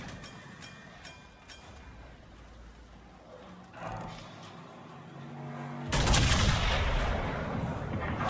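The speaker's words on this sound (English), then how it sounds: "Oh, now he's shooting AP." Naval guns fire armor-piercing shells in World of Warships, with a run of distant gunfire and rumble building to a loud, broad blast toward the end.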